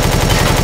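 Rapid automatic gunfire from the Empyrion game, a dense, loud, evenly spaced burst of shots running continuously through the short moment, with no talking.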